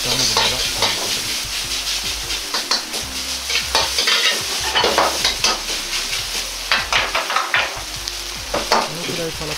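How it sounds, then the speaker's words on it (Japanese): Fried rice with ground meat and lettuce is stir-fried in a wok over fairly high heat, giving a steady close sizzle broken by frequent, irregular scraping and clacking strokes of the spatula against the pan. "鍋はあんまり弱火しないように炒めるのがポイントです"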